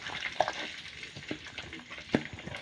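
Onion fries in a pan with a low, continuous sizzle, broken by a few soft scraping stirs and small taps.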